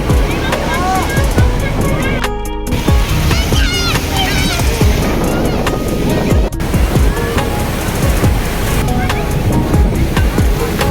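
Sea waves roll and crash continuously on Puri beach, loud and close, with gusting wind on the microphone and people's voices scattered through the surf.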